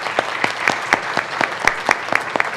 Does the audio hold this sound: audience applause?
yes